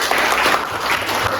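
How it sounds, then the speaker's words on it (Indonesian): Applause from a classroom of students clapping together for their teacher, a steady dense patter that fills the short moment at close range. "Tepuk tangan semuanya."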